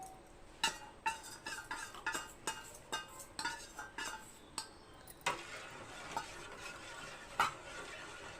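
A utensil stirs protein porridge powder into boiling water in a metal pot, making a steady run of rhythmic scraping clinks against the sides, about two strokes per second, with a bubbling simmer underneath and no voices.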